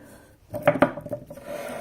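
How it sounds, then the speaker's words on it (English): Sandpaper rubbing across the wood body of a BC Rich Mirror guitar in a series of short, close rasping strokes, with a couple of louder scrapes near the middle. "you don't have to sand this wood all the way up to the tape line"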